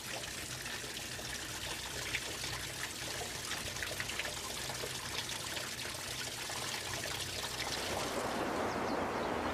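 Water swirls and trickles in a growing whirlpool vortex during a fluid-flow demonstration, a steady burbling stream that turns to a broader rushing wash near the end, close and continuous without talk.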